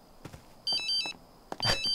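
A telephone rings twice inside The Sims, each a short burst of bright, warbling electronic tones that stand out clearly against quiet game ambience.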